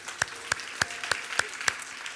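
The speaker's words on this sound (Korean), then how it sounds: "우리 다시 한번 하나님 앞에 영광과 감사의 박수 올려드리도록 하겠습니다." A church congregation claps in unison, six evenly spaced sharp claps ringing out at a steady rhythm in a reverberant hall.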